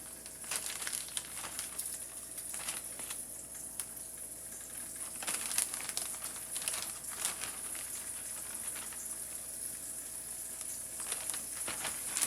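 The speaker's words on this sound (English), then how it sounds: "the chicken is starting to sizzle" Steady sizzling of chicken frying in a pan, a continuous crackle and hiss with scattered pops, close by and with no talking.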